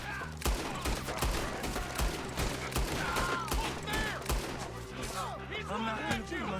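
Dense gunfire from a Red Dead Redemption 2 shootout, pistol shots and rifle cracks overlapping in a sustained fusillade amid a busy game soundscape, with voices speaking over the shooting.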